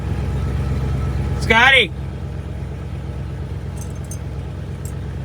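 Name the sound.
1958 Chevrolet Corvette engine running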